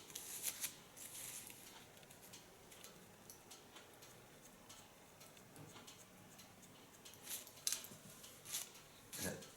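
Scissors snip the dry ends of fine hair held between fingers, giving soft, quiet clicks and short crisp cuts spread unevenly across the stretch, with a few brighter snips standing out near the end.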